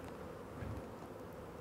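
Bees on a lavender bee farm make a steady, low buzzing drone, close and unbroken, with no voices over it.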